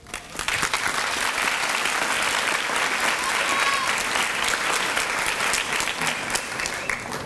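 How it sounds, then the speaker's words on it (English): At a 2018 high school graduation ceremony, a large crowd applauds with thick, continuous clapping that swells in quickly and holds loud and even for several seconds. "Fellow classmates, please give them a round of applause."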